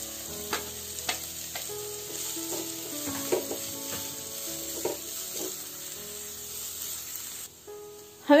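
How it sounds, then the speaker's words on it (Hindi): Carrots, beans, cabbage and capsicum sauté in a hot pan for a winter vegetable soup, a steady close sizzle and hiss broken by repeated scrapes and clinks of stirring, with a louder clatter at the very end. "प्याज भी हल्का सा भून चुका है और अब बारी है इसमें गाजर डालने की, साथ ही डाल देंगे बीन्स, पत्ता गोभी,"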